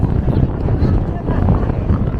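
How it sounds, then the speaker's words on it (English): Strong gusts buffet the microphone at a Phillies baseball stadium on an extremely windy day, making a steady, loud low roar with no clear talk. "Super windy."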